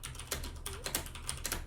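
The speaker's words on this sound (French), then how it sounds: "il est fort probable que mon clavier fasse un petit peu plus de bruit parce que j'ai changé de clavier" Rapid clattering keystrokes on a Cougar computer keyboard, a dense run of close, fairly loud clicks with no voice over them.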